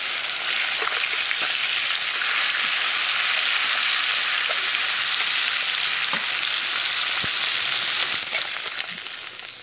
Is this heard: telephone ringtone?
no